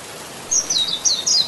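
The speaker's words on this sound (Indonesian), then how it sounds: "Burung kacamata, atau pleci." A Javan white-eye, a small cage songbird popular in Indonesia, gives bright, high, thin chirps in quick separate bursts over a quiet background.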